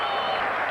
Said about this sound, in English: the crowd's gone mad